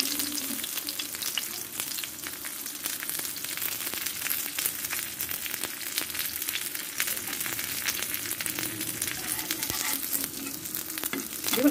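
Bottle gourd leaves fry in hot oil in a home kitchen, giving a steady, dense sizzle with faint crackles and stirring scrapes, close and unbroken throughout.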